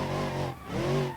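A car in BeamNG.drive understeers through a tight corner, its tyres scrubbing and engine droning continuously in two loud swells with a brief dip between.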